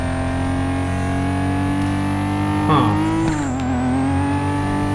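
Car engine in the racing video game Kanjozoku, a steady harmonic drone held throughout, then a sharp rev climbing and dipping as the car weaves through traffic, loud and continuous with no talk.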